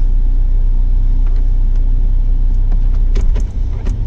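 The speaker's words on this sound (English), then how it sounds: "So now let's see how to move the car" Automatic car in drive starting to roll, a steady low engine rumble close by with a few faint clicks and rattles toward the end, no talking.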